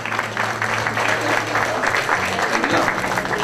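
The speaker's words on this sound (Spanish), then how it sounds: "Aplausos cariñosos para recibirlos y formar este cuadro familiar" At a quinceañera reception, guests give warm, sustained applause that fills the room, with a low hum of music and chatter beneath it.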